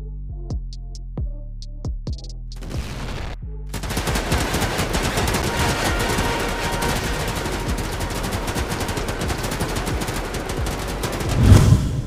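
Gunfire in an offline mobile shooter game opens with a few spaced single shots, then gives way to sustained, rapid automatic fire. A heavy thump comes near the end.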